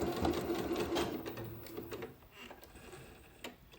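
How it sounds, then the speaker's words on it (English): Sewing machine stitching then backstitching at the end of a cowl sleeve seam, a steady close mechanical whir with rapid needle ticks that slows and stops near the end. "Remember to backstitch at the end."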